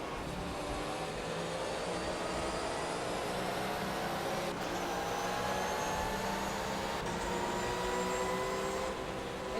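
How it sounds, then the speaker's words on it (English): Porsche 997 or 991 flat-six engine in a racing video game, a steady sustained drone with slowly rising and falling tones over nearly ten seconds, fairly quiet and unbroken, with no talk over it. "if we just take a moment to listen to the notes of that flat six engine in the Porsche."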